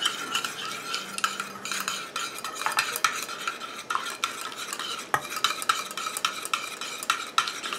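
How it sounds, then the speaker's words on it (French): Continuous stirring of a homemade soothing aftershave cream emulsion, oil and water phases being whisked together in a container as it cools and thickens, a steady close scraping rhythm with no talking. "je mélange comme ça jusqu'à ce que mon émulsion refroidisse et épaississe"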